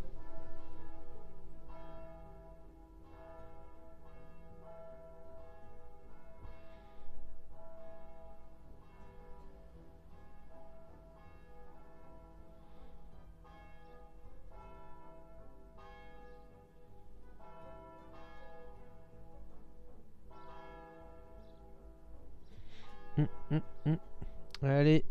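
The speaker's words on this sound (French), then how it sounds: "C'est bientôt fini la cloche, hein, vous inquiétez pas, ça va se terminer." Church bell ringing in a steady series of resonant tolls that keep sounding for over twenty seconds, with sustained ringing tones between strikes and a louder clanging burst near the end.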